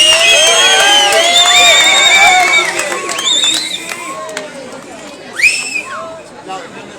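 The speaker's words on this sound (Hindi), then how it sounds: "इन दोनों के लिए जोरदार तालियां हो जाए।" A school crowd at a celebration of an under-19 tournament victory cheers loudly, with whoops and shouted voices swelling at first, then thinning, followed by a late burst of cheering.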